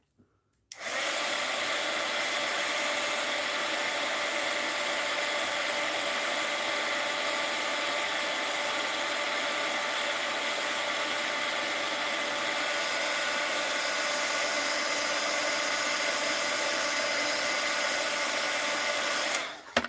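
A heat tool remelts a wax seal, its steady blowing roar running loud and unbroken for the whole stretch after a brief start, then cutting off at the end.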